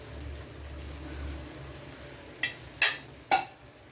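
An amboli rice pancake roasts on a hot pan over high flame with a soft, steady sizzle, then three sharp scraping or flipping clatters near the end.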